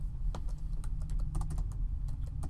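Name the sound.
clicking buttons while playing a video game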